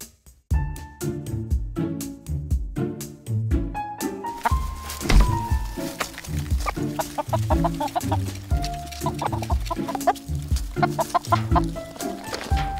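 Chickens clucking in a pasture that is being repaired with new seed, with a steady run of close, overlapping clucks and squawks. The calls carry over a low, busy background and keep going without pause.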